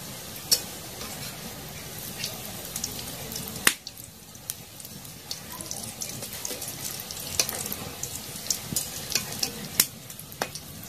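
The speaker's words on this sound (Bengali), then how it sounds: "আমার এই খোঁজাগুলা ভাজা হয়েছে, লাল লাল করে ভাজে নিচ্ছি" Khaja pastries made of flour fry in oil, a soft continuous bubbling sizzle broken by sharp clicks and scrapes of a utensil stirring and turning them in the pan, close and without talk.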